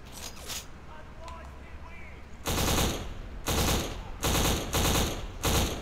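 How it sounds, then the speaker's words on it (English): Burst-fire gunfire in a video game crackles after a busy, noisy stretch, with several loud rapid bursts following one another in quick succession. "Burst fire seems to work the best."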